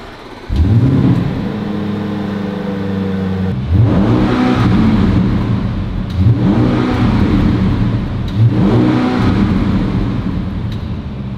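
A deep, throaty engine of a tuned 800 hp ABT RSQ8 Signature Edition SUV idles and then revs up three times in even succession, each rev rising and falling, loud and close.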